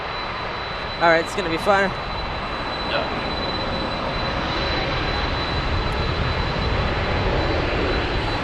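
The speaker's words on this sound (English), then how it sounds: "We have a 767 FedEx." A FedEx Boeing 767-300 freighter jet at Frankfurt Airport produces a steady, loud engine roar and rushing noise, with someone speaking briefly over it near the start before the jet sound continues alone.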